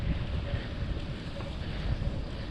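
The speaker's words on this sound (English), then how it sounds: "I'm sure you can hear the wind." Wind rushes and buffets against the microphone while cycling on a beach bike path in cool, windy weather, giving a steady, loud, low roar that continues without pause throughout.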